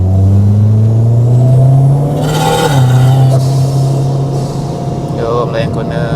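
A Mitsubishi Lancer's engine revs hard on a winding mountain road, a loud sustained drone that climbs, dips as the gear changes, then settles into a steadier hum.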